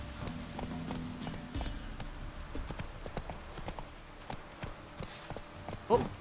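Hooves of the horse Roach in The Witcher 3 clopping in a quick galloping rhythm, fairly faint under game ambience and a voice talking.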